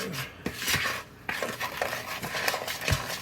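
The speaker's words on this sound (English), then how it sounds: "I'm just going to mix all that together" Paprika, salt, pepper and garlic powder being stirred together as a dry rub in a bowl, giving close scraping and clinking strokes in an uneven rhythm.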